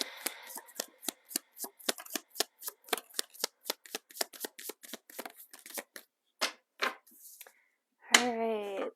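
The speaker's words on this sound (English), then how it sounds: "Let's get some animal spirits, and then we'll get some tarot, and then I'll pull some cards for you guys as well." Tarot cards shuffled by hand in a rapid series of crisp riffling snaps, near and steady, then slowing to a few sparse flicks before a brief burst of voice at the end.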